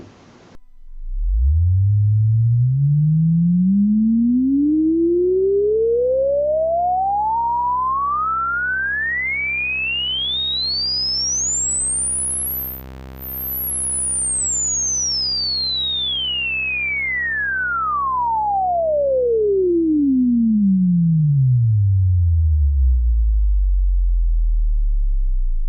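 A Korg King Korg synthesizer plays a single sustained, buzzy tone while its resonant filter sweeps steadily upward to a piercing peak and then back down, loud and alone for about twenty-five seconds.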